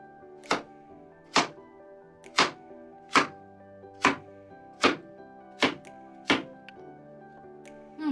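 Unpeeled zucchini being cut into large chunks on a board: nine firm, evenly spaced knife thunks, close and clear with quiet gaps between.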